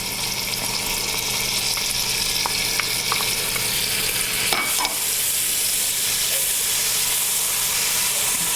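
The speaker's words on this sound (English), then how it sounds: "we are going to just add our tablespoon of minced garlic to the onion and the bacon" Minced garlic sizzles in a pan with onion and bacon for a pot of greens, a loud continuous hiss overlaid with light scraping from stirring and one sharp clink partway through.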